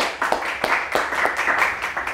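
An audience claps for Kayla, a young gymnast and Putri Anak Indonesia titleholder, at an Indonesian event: scattered, uneven claps from a modest crowd over a couple of seconds.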